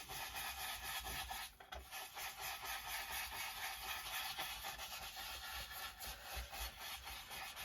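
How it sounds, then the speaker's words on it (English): Blending brush working walnut stain ink around paper edges: a continuous close scrubbing and rubbing, soft and fairly even, with brief changes in pace and no voices. "I'm just going to go around the edges with the walnut stain."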